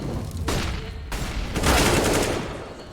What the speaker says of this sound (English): Taps actually netting a frag as well with that MAC-10